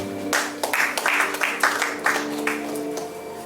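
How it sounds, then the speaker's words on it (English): An audience at a fashion event claps for a fashion designer, a burst of scattered applause that swells and then thins out over a few seconds, with faint background hum. "Please clap for her."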